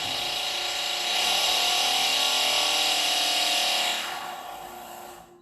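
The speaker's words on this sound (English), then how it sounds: "the drilling sound at this moment is nudging us" A power drill whirs steadily at high pitch for about four seconds, then winds down and fades out.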